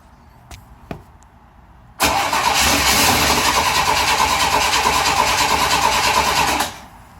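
After a couple of faint clicks, a 1963 Chevy Nova's 194 inline-six fires for the first time and settles into a loud, steady idle nearby, running a few seconds before cutting off abruptly.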